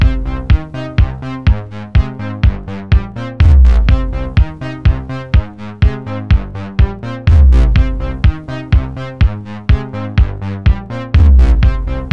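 Loud electronic synth track with punchy kicks and pulsing chords, gritty lo-fi bitcrusher texture and a washy reverb tail, driving steadily without vocals.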